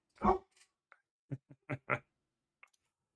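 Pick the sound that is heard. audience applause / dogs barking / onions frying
dogs barking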